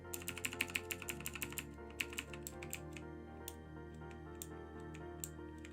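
Fast typing on a mechanical keyboard with Kailh Blue clicky switches, from a VAVA keyboard; crisp rapid clicks in a quick burst, then sparser keystrokes, close and fairly quiet over a faint steady hum.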